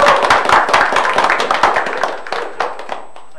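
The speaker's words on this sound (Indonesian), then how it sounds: "Tepuk tangan untuk Dian." A classroom of students clapping for a classmate named Dian, brisk close applause from a small group that trails off into a few scattered claps after about two seconds.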